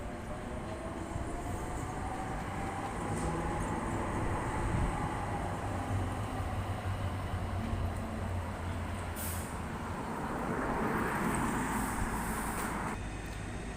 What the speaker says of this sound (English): Super Tram 113 going past on its way to Malin Bridge.